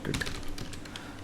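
Quick keystrokes on a computer keyboard while typing Python code, a short burst of soft, close clicks with a faint room hum underneath.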